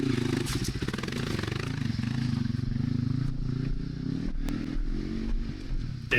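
A motorcycle creeps slowly along a steep rocky track on Black Mountain Road in Far North Queensland, its low engine chugging steadily close by with scrapes and clatter of stones under the tyres throughout.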